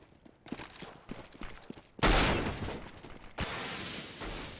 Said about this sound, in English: As you can see, the nades are rolling in.